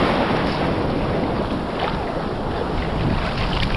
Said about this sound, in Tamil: அந்த மாதிரி ஒரு காற்று லைட்டாக அப்படி அடிச்சுட்டே இருக்குது